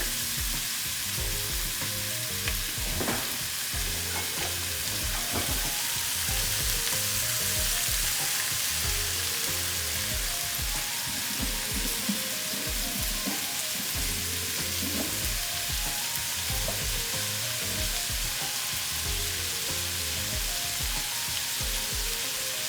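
Garlic sizzles and fries in a hot pan while cooking Jamaican curry shrimp, a continuous crackling hiss with occasional stirring scrapes, close and steady with no talking.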